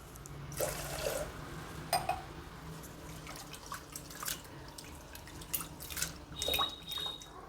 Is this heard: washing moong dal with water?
yes